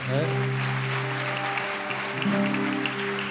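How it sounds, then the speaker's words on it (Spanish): A church congregation applauding, heard as a steady wash of many hands clapping together. Sustained organ or keyboard chords sound over it, and no voices come through. "¿Por qué no le damos una ofrenda de aplauso grande a nuestro Rey?"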